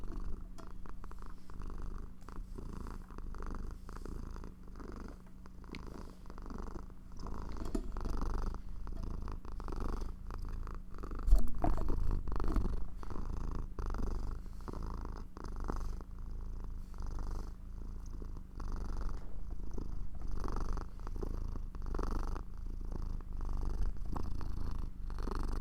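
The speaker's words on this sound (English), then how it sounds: "I'm petting her, and she's purring" A cat purrs close to the microphone while being petted, a low continuous rumbling purr with rhythmic pulses that carries on for about twenty-five seconds, a brief rustle near the middle.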